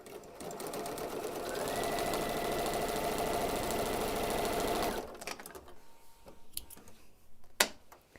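A sewing machine runs continuously for about five seconds, sewing the final seams of a pieced quilt backing, loud and steady, then stops, leaving quiet handling noises and a sharp click near the end.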